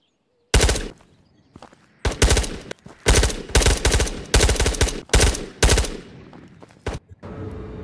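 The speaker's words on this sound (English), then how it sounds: "Yep, he's shooting." Gunfire in the video game Ghosts of Tabor: several loud, close bursts of automatic fire separated by short pauses, with quieter gaps between volleys.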